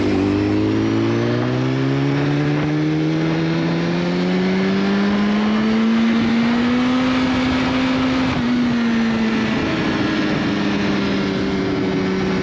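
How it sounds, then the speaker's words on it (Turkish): A motorcycle slowing on engine braking while downshifting, its loud close engine drone sliding gradually in pitch as the revs change, with no talk. "Engine brake ishlatiladi, motorni tormoz degani."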